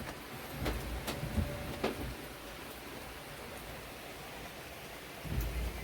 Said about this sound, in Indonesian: Lumayan cukup deras hujan.